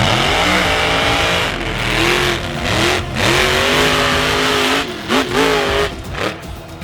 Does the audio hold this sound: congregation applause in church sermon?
no